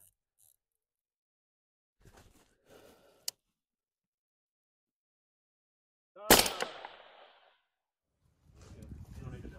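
Precision rifle shots ring out at targets on a practical shooting range: one sharp, loud report with a short decaying echo stands out amid sparse quiet handling noises and brief bursts of movement.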